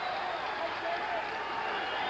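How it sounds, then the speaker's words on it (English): A boxing arena crowd roars in a steady, dense wash of noise as a middleweight title fighter is pinned on the ropes, with no clear single voice standing out. "The crowd reacting to James Toney being back on the ropes."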